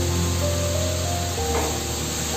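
Tomato frying in a pan with ginger, garlic and green chilli, giving a steady, dense sizzle and hiss that carries on evenly at close range without any talking.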